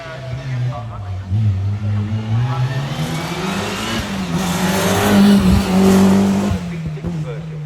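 A Group A rally car rated at 290 brake horsepower runs at the Prescott rally, its engine droning and revving loudly up and down nearby while people talk over it.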